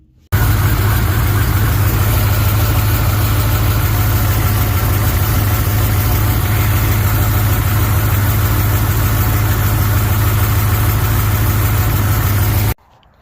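A 392 Whipple-supercharged Ram engine idles with a loose ATI damper, a loud, steady, close drone that runs unbroken after an abrupt start and stops suddenly.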